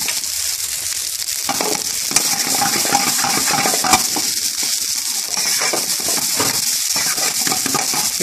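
Basmati rice for spinach saag rice is stirred in a hot pan, giving a loud, steady sizzle with scraping strokes and small clinks of the utensil against the pan.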